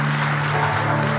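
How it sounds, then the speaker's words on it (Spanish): A church congregation applauds God during a sermon, a loud, dense burst of clapping over a steady low musical hum, brief and continuous. "Fuerte ese aplauso a nuestro Dios."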